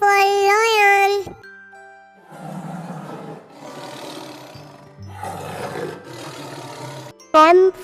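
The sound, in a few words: lion roaring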